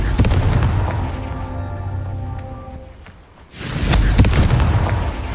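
A Confringo spell blast in the video game Hogwarts Legacy lands as a loud booming burst after a rumbling, fading lead-in, followed by a crackling, sustained roar.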